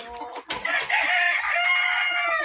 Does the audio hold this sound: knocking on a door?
no